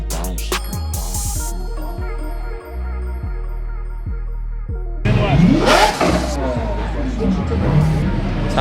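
Corvette Z06 engine revving at a car meet, deep repeated throttle blips at first, then a loud sustained roar with crowd chatter and voices around it.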